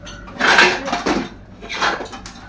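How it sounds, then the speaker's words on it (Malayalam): Washed dishes and pots being put away, with several clattering bursts of metal utensils knocking and scraping together, close and fairly loud, separated by brief pauses. "മുകൾ ഭാഗത്തിരുന്ന പാത്രങ്ങളെല്ലാം ഉണങ്ങി ഇപ്പം ഇതെല്ലാം കൊണ്ടുവന്ന് വെച്ച് അവിടെ അതെല്ലാം ഒന്ന് ഒതുക്കി"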